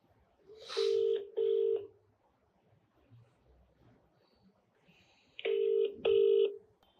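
A telephone call is dialed and rings: two paired bursts of loud ringback tone, each a double ring, separated by a few seconds of quiet low room noise.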